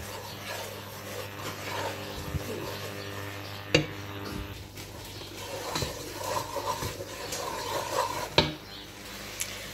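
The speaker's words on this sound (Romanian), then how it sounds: "vom adăuga făina puțin câte puțin și vom amesteca" A utensil scrapes and rubs steadily around a pot while stirring flour into hot oil, with soft rasping strokes and a few sharp clinks against the metal.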